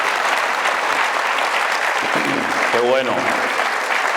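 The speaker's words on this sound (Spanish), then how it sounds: "Un fuerte aplauso a todos los padres esta mañana." A Spanish-speaking church congregation gives a loud round of applause for the fathers on Father's Day, steady clapping throughout, with a voice briefly speaking over it near the middle.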